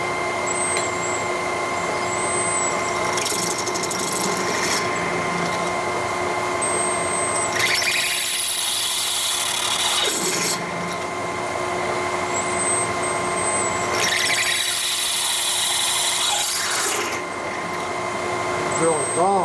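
A solid carbide drill bit bores at high speed into steel from a 1960s Harley XL kicker gear. It gives a sustained machine drone with two loud bursts of harsh grinding noise, and a thin squeal comes and goes.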